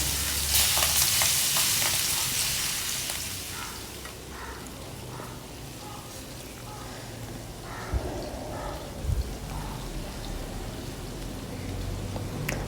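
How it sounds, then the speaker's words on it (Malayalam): Marinated prawns fry in coconut oil for a prawn biryani, giving a loud bubbling sizzle that eases to a steadier crackle, with a couple of light utensil taps near the end. "അപ്പം നന്നായിട്ട് ഇതൊന്ന് ഫ്രൈ ചെയ്തെടുക്കാം"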